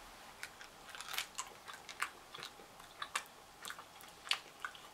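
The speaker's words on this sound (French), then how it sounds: "Donc on va croquer" Bean Boozled jelly beans being crunched between the teeth, a close, quiet series of irregular crisp bites and chewing clicks with no talking.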